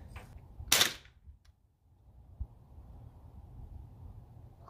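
A single sharp crack from an American Classic airgun fired during target shooting, close and loud, followed by a short quiet gap and then low ambient outdoor rumble with a faint distant thump.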